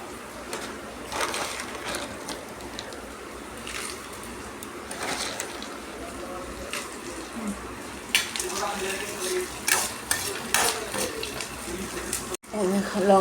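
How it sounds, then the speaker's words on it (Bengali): Peanuts fry in a hot pan at home, a soft, steady sizzle with occasional stirring scrapes, heard close while someone talks over the cooking. "ভাজা ভাজা হোক, তারপরে বাদামটা দেব"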